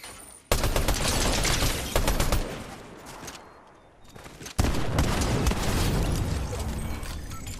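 Automatic gun firing in a Fortnite Zero Build solo match, long sustained bursts of rapid shots, loud and close, broken by a brief lull before firing resumes.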